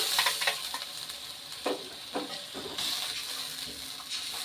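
A ground paste of onion, ginger, garlic and tomato fries in a pan for an egg curry, giving a close, steady sizzle and hiss broken by occasional stirring scrapes.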